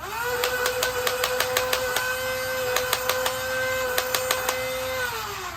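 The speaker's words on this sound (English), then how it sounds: "So that's how it fires, has a little thing that shoves it in there." A Dart Zone Max Venom Pro full-auto dart blaster spins its flywheels into a steady whine, then fires clusters of rapid, sharp mechanical clacks in several bursts with short pauses between, close and fairly loud, with no one talking.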